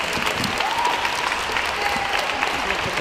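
A crowd gathered outside a courthouse applauds steadily, a dense outdoor wash of clapping with faint voices mixed in.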